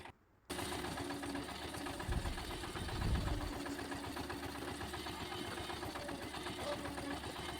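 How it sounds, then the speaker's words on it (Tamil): Concrete vibrator runs during plinth beam construction, pushing poured concrete to close gaps: a steady, droning mechanical buzz that starts abruptly after a brief quiet moment and continues evenly, with a couple of heavier low thumps in the middle. "ஸோ இதுதான் அந்த வைப்ரேட்டர்."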